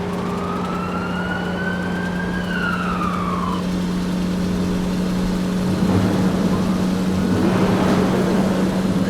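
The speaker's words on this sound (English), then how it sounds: "Ambulance." A toy ambulance siren wails in a rising and falling sweep, then fades as a steady low hum and rattling noise build, with no voices.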